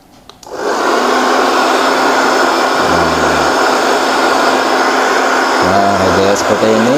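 A hair dryer switches on and blows steadily, a loud close whoosh that holds for several seconds while drying a hair system, with a low voice speaking beneath it twice.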